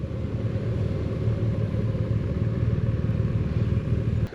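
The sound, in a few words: BMW R1250 RT motorcycle arriving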